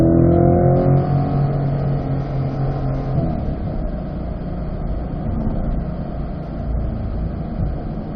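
A car engine drones steadily from inside the cabin on the Spring Mountain race track, its pitch rising gradually as the car accelerates through a turn, loud and continuous with no talk.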